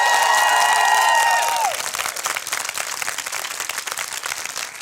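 An audience claps at an interview event at the Frankfurt Book Fair 2019, a dense steady patter of many hands, loud and close, first under a fading sustained musical tone and then alone.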